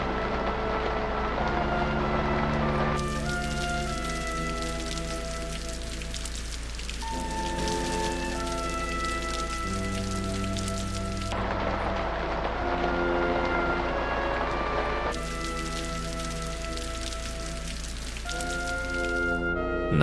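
Steady rain pattering continuously at moderate loudness in a Left 4 Dead 2 Android demo made in Unity, with a sustained musical drone and shifting tones playing underneath.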